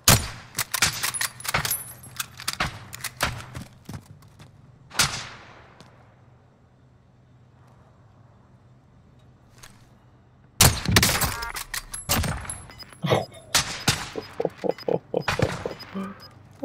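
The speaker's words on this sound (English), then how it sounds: "Where's he shooting me from?" Gunfire in Call of Duty: Modern Warfare, with bursts of sharp shots and clattering rounds, a quiet lull in the middle, then dense rapid volleys returning loud and close.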